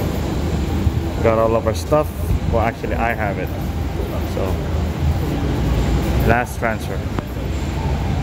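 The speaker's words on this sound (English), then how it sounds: "We're on the train, heading back." The interior of a Tokyo train carriage gives a steady low rumble and hum throughout, with people talking over it at close range.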